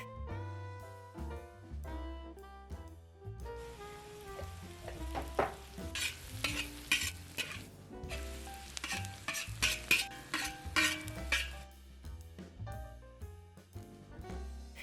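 Vegetables stir-fried in a pan for Chinese shrimp fried rice sizzle and hiss under loud background music, with brisk scraping stirs of a utensil in the middle stretch.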